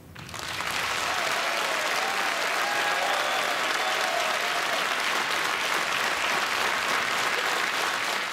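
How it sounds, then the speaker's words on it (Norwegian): An audience gives warm, sustained applause to welcome a musician about to play a jazz medley, a dense, even roar of clapping that rises quickly and holds steady throughout. "Gi en varm applaus"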